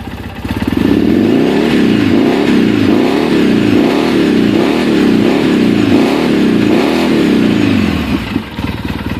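2008 Polaris RZR side-by-side engine revved repeatedly on a trail, loud and close, with rhythmic rising and falling throttle blips over a steady rumble before easing off at the end.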